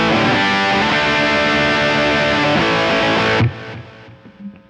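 A dense, distorted electric guitar chord through a high gain amp profile on a Kemper rig rings out loud and sustained, then is cut off, leaving a faint decaying tail and some quiet handling noise.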